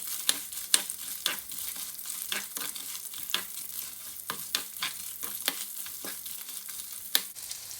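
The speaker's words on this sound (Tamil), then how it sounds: "கொஞ்சம் நல்லெண்ணெய் விட்டு அதுக்குள்ளே வெங்காயத்தை முதல் போடுவோம்." Onion fries in sesame oil in a pan, giving a steady close sizzle broken by frequent sharp scrapes and clacks of stirring, with no voices.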